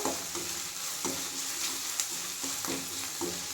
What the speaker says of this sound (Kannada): ಈ ರೀತಿಯಾಗಿ ಚೆನ್ನಾಗಿ ಫ್ರೈ ಮಾಡ್ಕೋಬೇಕು ಶುಂಠಿ ಬೆ ಶುಂಠಿ ಬೆಳ್ಳುಳ್ಳಿ ಪೇಸ್ಟ್ನಿಂದ